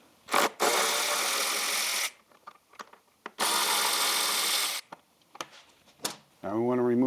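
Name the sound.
removing 8mm hex head screws from Triumph Thruxton RS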